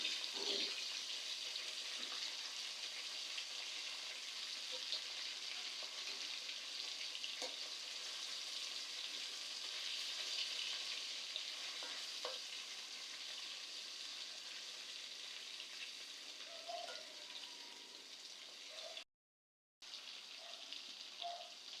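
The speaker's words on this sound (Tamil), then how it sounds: "நல்லா ஃப்ரை ஆகிட்டு இருக்குது." A steady, broad sizzle of fish frying in a pan continues evenly, with a few faint pops and a brief dropout near the end.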